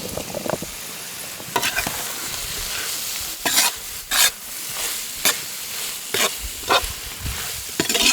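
Boiled banana corm stir-fried in a pan for a crispy village-style fry: steady sizzling under repeated sharp scrapes and clacks of a spatula against the pan, close and fairly loud.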